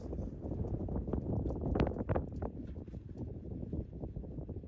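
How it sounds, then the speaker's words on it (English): Wind gusts outdoors at a mountain cabin, rumbling and buffeting across the microphone in an uneven, continuous roar with no voices. "The wind is probably making this sound terrible"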